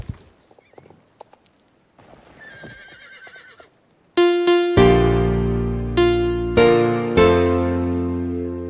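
A horse whinnies loudly several times in rising, ringing calls over the second half, after quieter shuffling and faint hoof clip-clops at the start.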